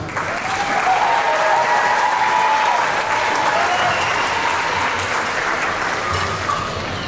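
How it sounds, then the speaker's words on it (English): Loud, sustained applause from a large audience at a middle school band holiday concert, dense clapping that stays even throughout without a break. "can you give them a round of applause, please?"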